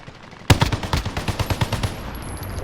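Rapid gunfire in a shooter video game, a burst of roughly a dozen sharp, evenly spaced shots that starts abruptly and fades into a steady high tone. It is loud and close, with no talking.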